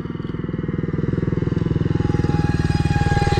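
A motorcycle engine runs close by with a rapid, regular pulsing beat, its volume swelling slightly as it keeps steady revs for over three seconds.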